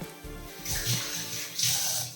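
Two tablespoons of water poured from a mixer jar into a pan of crushed coconut paste for a Kerala cheera thoran give a short, bright splashing rush that rises twice, with no voices.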